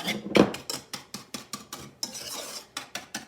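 A utensil stirs fajita food around in a pan, producing a run of quick scraping, clinking strokes in a steady rhythm, close and moderately loud, with a brief gap before the stirring resumes.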